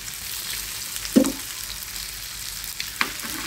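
Eggs fry in a pan with onion and chili, giving a steady low sizzle broken by a short stirring clatter near the middle and a lighter knock near the end.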